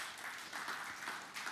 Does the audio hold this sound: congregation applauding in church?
yes